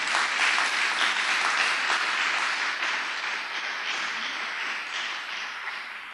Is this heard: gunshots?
no